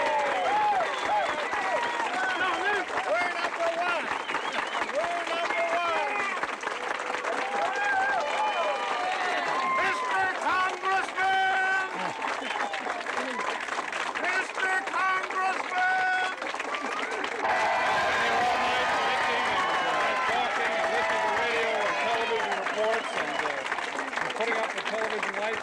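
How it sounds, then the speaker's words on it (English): An excited crowd at a 1978 election victory party applauds and cheers continuously, a loud dense wash of clapping and voices throughout. "Excited crowd."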